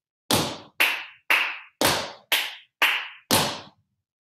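Seven crisp hand claps from a tap dance class ring out one at a time at a steady, even pace, each sharp and close with a short decay and no talking.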